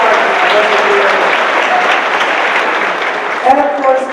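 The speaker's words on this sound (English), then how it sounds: "Let me give Abel a round of applause." An audience at a lecture claps steadily and fairly loudly for several seconds, a dense wash of applause that starts to thin near the end.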